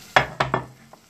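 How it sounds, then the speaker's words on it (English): A spoon stirs chili flakes, garam masala and salt in a hot pan, giving three quick scraping sizzles in a row, close and clear, then a faint final tap. "And then give that a stir."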